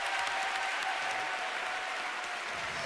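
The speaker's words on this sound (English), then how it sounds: "And a huge round of applause for Cantabile." An audience in a concert hall claps loudly and steadily for a senior school choir, the applause sustained evenly throughout.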